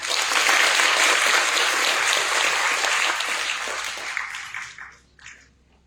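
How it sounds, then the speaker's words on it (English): Audience applause at a National Science Day celebration at IACS, welcoming a professor to the stage: a dense, sustained clapping from a full hall that holds steady, then thins and fades out over the last second or so. "Please join me in a round of applause"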